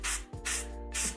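An airbrush sprays paint onto a Warhammer 40k Avatar of Khaine miniature in three short, close, hissing bursts separated by brief gaps.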